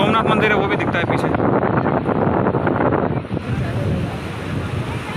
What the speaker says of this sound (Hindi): हाँ, बहुत लहर आ रहा है, बहुत तेज़ लहर।